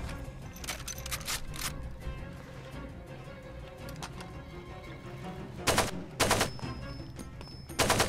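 Submachine gun fire in the video game Far Cry 2: a few short, sharp bursts of rapid shots near the end, set against a steady low background of game ambience.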